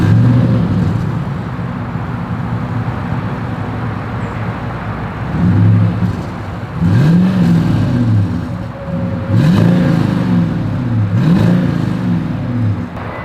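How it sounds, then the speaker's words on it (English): A 2022 Toyota Sequoia SUV idles with a deep exhaust rumble through its single outlet, then revs in several rising and falling swells, heard close and loud. "As always, here is that exhaust clip."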